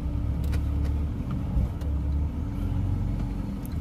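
A Ford BA Falcon with the Barra straight-six engine runs just above idle, a steady close low rumble with a slight cyclic pulse and no voices.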